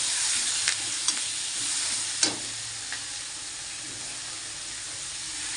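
Tomatoes and curry leaves sizzle steadily in hot oil, with a few sharp spoon scrapes and clinks as they are stirred in the pan, close and fairly quiet.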